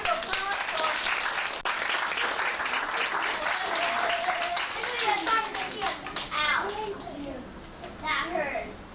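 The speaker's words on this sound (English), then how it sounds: "let's have a big round of applause for" Children in the audience of an Irish magic show clap for several seconds, a dense round of applause mixed with excited kids' chatter, which tapers off as voices take over.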